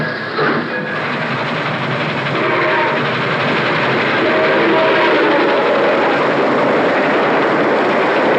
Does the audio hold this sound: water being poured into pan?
no